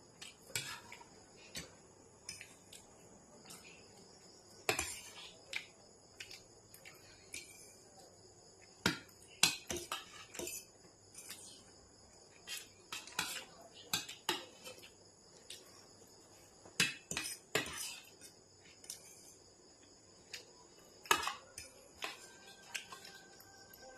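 A spoon clinks repeatedly against a plate while pasta is eaten, with scattered sharp taps in an irregular rhythm throughout, fairly faint and close, with a little talk now and then.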